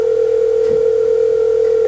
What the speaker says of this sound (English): The awful phone stops ringing and another one starts.